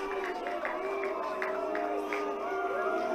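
Crowd of football fans at a Kazakhstan Cup round-of-16 penalty shootout between Altai and Astana, a steady dense murmur of disapproval filling the stadium, with scattered voices rising above the continuous din.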